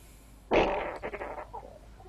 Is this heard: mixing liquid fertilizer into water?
no